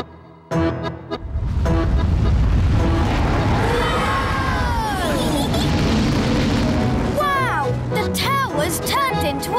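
A cartoon rocket launches with a sudden deep boom and a sustained loud roaring rush, followed by whistling sparkle effects and overlapping voices.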